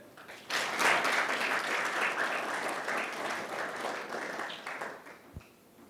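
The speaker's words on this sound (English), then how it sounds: "Please join me in giving a round of applause to Kristen Collins-Smith" An audience at a business case competition breaks into sustained, dense applause that swells quickly, holds for several seconds, then tapers off with a single knock near the end.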